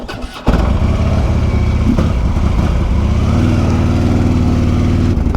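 Harley-Davidson Road King V-twin cranks and fires up at once, settling into a loud, steady, close-up lumpy idle that holds for several seconds.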